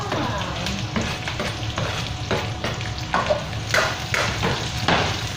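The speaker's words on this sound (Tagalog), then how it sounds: "Halo-haloin hanggang sa maluto ang sibuyas." Chopped onion sizzles and crackles in hot oil with browned garlic while a spatula stirs it in repeated scraping strokes, steady and close for a Filipino chicken binagoongan.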